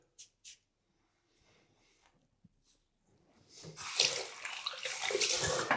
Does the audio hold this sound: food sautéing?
no